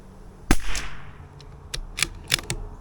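Gunshots fired at a pumpkin at an outdoor shooting range: one sharp, loud crack followed by several quicker, slightly fainter reports spaced over a few seconds.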